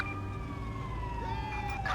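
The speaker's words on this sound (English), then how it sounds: "So now the ambulance will come for this officer." An ambulance siren wails inside the GTA V LSPDFR police game, a faint sweeping tone falling gradually in pitch over a low background hum.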